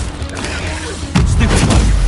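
An Incendio fire spell is cast in Hogwarts Legacy, a sudden whooshing burst of flame that roars and crackles over the game's background rumble.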